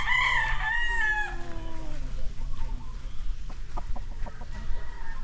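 An Alabama Black gamefowl rooster crows once, loud and close, its drawn-out call filling the first second and a half before fading into yard noise, light clucks and scattered knocks.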